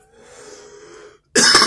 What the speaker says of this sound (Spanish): Perdonen, la tos me tiene pésimo.